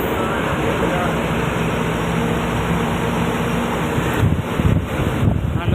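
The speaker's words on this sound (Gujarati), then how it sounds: "આજે પવન બહુ વધારે છે ભરૂચમાં." Strong, storm-like wind near the Narmada river at Bharuch during a bus journey roars steadily against the microphone, with heavier gusting buffets toward the end.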